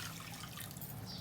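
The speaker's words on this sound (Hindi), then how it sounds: "अब हम इसके अंदर पानी डालते" Water pours into a cooking pot in a quiet, steady stream, a short soft rush without other sounds.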